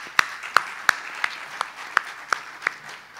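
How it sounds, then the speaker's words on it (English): Sparse, slow claps ring out one by one, about eight in a steady rhythm, as a small audience at a crime fiction book festival discussion in New Orleans greets a speaker. "let's go, applause"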